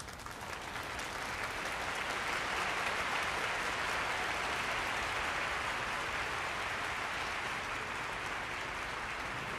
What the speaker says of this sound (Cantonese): 大家俾啲掌聲佢哋好嘛？